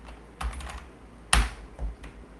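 Someone types a short command on a computer keyboard, a few separate key clicks and a sharper keystroke near the middle, close and distinct over quiet background.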